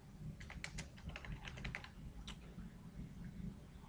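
Computer keyboard typing while entering Java code, quiet close-up key clicks in quick irregular bursts that cluster early and thin out later, with no speech.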